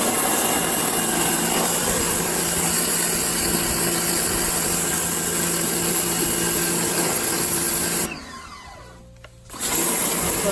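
A powerful jet blasts steadily at a Subaru spoiler to strip its paint, a loud continuous mechanical roar that cuts out briefly near the end before resuming.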